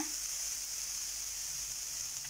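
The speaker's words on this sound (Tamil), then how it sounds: "இப்போ அதே நெய்யில் தேங்காய் துருவலையும் போட்டு வறுத்து எடுத்துக்கலாங்க" Grated coconut frying in ghee while making rava ladoo, a soft steady hiss of sizzling that stays even and fairly quiet throughout.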